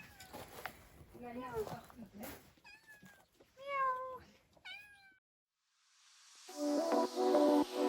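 Cats meow repeatedly up close, a string of rising and falling cries, followed by a louder burst of noisy clatter at the end.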